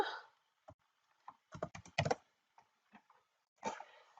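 Computer keyboard keys tapped in short irregular bursts while an online account's password and name fields are filled in, close and clear with quiet gaps between clusters of clicks, no voices.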